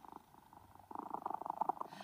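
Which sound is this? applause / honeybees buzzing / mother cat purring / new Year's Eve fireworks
mother cat purring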